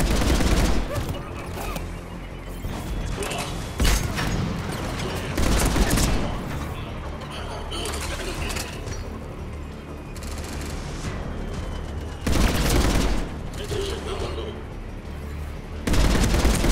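Bursts of gunfire ring out in the video game Mass Effect 3, with loud volleys that come and go among battle noise, while someone talks in German over the shooting.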